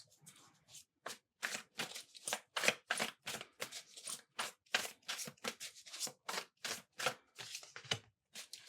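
Tarot cards are shuffled and drawn: a run of quick, crisp riffling bursts in an irregular rhythm, close and fairly soft, with brief pauses between shuffles.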